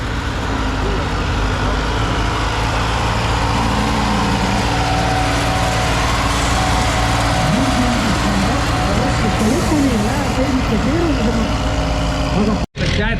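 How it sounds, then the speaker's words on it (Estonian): A new tractor's engine runs steadily at a tractor pulling competition, a loud continuous heavy diesel drone with low rumble throughout and rising revs near the middle, with a brief cut near the end. "Uue traktori hääl."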